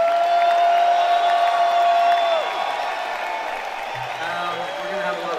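A concert crowd at a show in Manchester, New Hampshire, applauding and cheering for a string ensemble, a loud sustained roar of clapping that slowly thins out, with a held musical tone early on.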